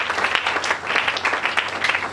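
Church congregation applauding together, a steady dense wash of many hands clapping at moderate loudness, continuous throughout with no talk over it.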